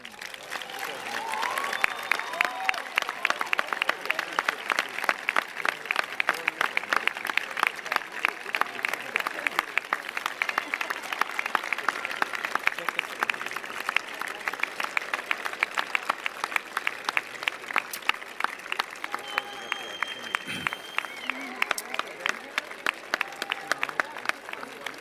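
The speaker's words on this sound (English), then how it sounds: "would you please stand so the graduates can applaud you" Sustained applause from graduates at a 2013 commencement ceremony, directed at standing parents, grandparents and families in the audience, a dense steady patter of many hands lasting throughout with some crowd noise beneath.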